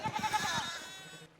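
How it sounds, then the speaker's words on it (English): Sheep in the video game Pentiment bleat in a short, faint, wavering call, with a few soft shuffling thumps at the start and no one talking. "Oh my God, and all these sheep."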